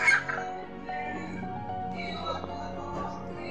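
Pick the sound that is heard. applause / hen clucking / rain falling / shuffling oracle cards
hen clucking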